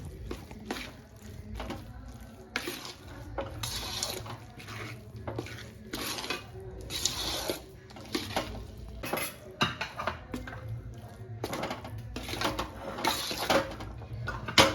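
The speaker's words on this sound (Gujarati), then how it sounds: "સરસ રીતે આપણે આ રીતે મિક્સ કરી દઈશું." Salampak ingredients with cardamom being stirred in a pan, giving a steady run of soft scraping and clinking of a utensil against metal, fairly close, with irregular louder knocks and no talk.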